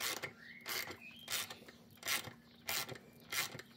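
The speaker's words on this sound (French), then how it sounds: "Là, je serre. En fait, je pousse la goupille." A pin punch tool clamped in a vise pushes a pin out of an RC car cardan driveshaft, giving five or six short, close mechanical scraping bursts spaced roughly evenly apart, with quiet gaps between them and no speech.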